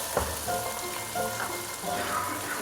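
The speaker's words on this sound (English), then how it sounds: "Now onion paste in the oil." Onion paste frying in hot oil for a home-style fish curry gives a steady, close sizzle with soft stirring scrapes and no talking.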